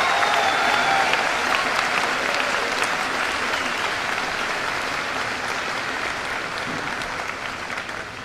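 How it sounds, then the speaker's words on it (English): A high school graduation audience claps steadily, a dense, even wash of applause that holds throughout and slowly tapers near the end. "Let's give them a rounding round of applause."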